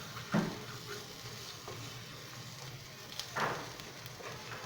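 Mashed taro with turmeric and salt is stirred in oil, giving a faint low sizzle under a few scraping strokes of the spoon, one near the start and a longer one later.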